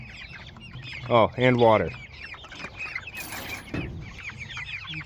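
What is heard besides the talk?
rooster clucking, Blue Andalusian chicken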